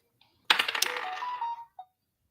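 A phone ringtone suddenly goes off indoors, a bright melodic burst of about a second that fades, followed by one short tone, in an otherwise quiet room.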